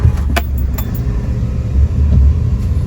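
A Maruti Celerio's engine turns over and settles into a low, steady idle rumble close by, with a few small clicks and jingles near the start.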